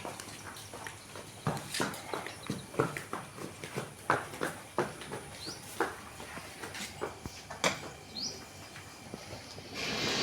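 A young Nili-Ravi mini buffalo heifer walks on a farm, her hooves landing in a steady series of soft, fairly close thuds, with faint birdsong in the background.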